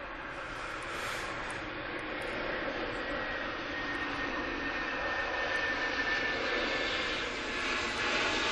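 Airliner arriving from Faro passing over Manchester Airport, a sustained broad jet engine roar with a faint whine, steady and fairly distant, slowly swelling as it passes.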